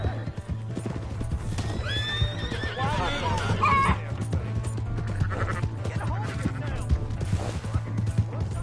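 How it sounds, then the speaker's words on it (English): A horse in the Red Dead Redemption 2 video game whinnies loudly while hooves clip-clop steadily throughout, mixed with bleating-like animal calls and frequent voices talking over the scene. "Hey, that's my horse!"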